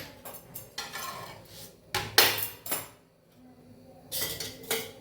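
A thepla flatbread is turned over on a griddle pan with a few clanks and scrapes of a metal spatula against the pan, in short bursts with quiet gaps between them.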